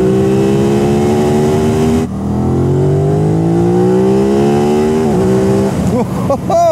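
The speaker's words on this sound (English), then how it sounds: "There's a little bit of a surge right at the top of the revs there, where it starts to feel, you know, properly quick." An Aprilia RS 660 with a 659cc parallel twin accelerates hard up through the revs in dynamic mode, its climbing engine note interrupted by quick gear shifts, heard loud and close from the rider's position.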